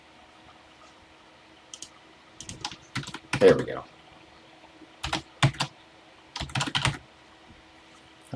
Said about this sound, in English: I'm aware that I was typing.